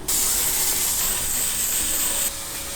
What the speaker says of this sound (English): I'm going to spray glitter in it.